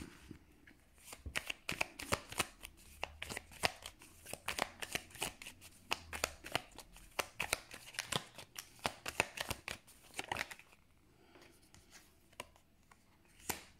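Tarot cards are handled, flicked and laid down on a table in quick, irregular clusters of crisp slaps and rustles, close and fairly quiet, easing off near the end; no one speaks.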